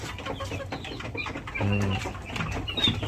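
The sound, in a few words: free-range village chickens (kampung, KUB breed)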